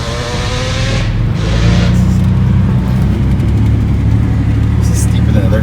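A 1995 Ford Ranger in four-wheel low loses grip on a steep, loose dirt hill, its engine droning loud and close as a wheel spins, with voices talking over it.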